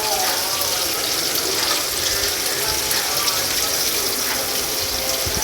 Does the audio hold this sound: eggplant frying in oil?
yes